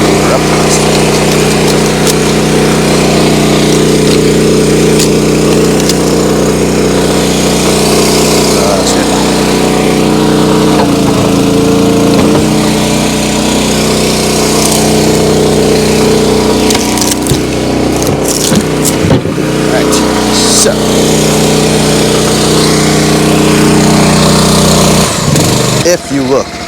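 A vertical log splitter's engine runs loud and steady throughout, with wood cracking and creaking as a knotty log is forced apart; voices can be heard talking over the engine noise.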